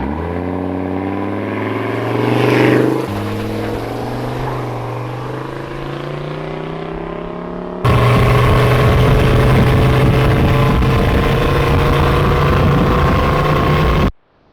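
A truck with a cowl induction intake being run from 0 to 60, its engine revving up through rising gear pulls, then a loud, steady roaring drone that cuts off abruptly at the end, with no talk.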